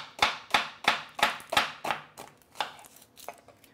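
Knife slicing through an onion on a chopping board: about nine crisp, close chops in a steady rhythm that slows and fades toward the end.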